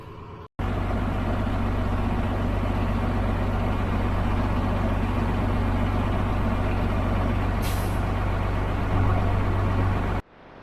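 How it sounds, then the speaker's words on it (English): A truck engine held at a steady high idle to warm up after an engine rebuild, a loud, constant, even drone that runs unbroken from start to finish, with a brief hiss partway through. "So now I'm just gonna let it high idle for an hour or so."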